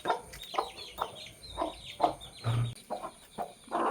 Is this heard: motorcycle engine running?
no